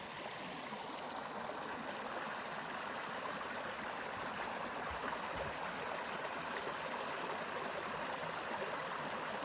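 Creek water at Barlow Crossing flows in a steady, unbroken rush, a constant broadband wash heard close by with no voices over it.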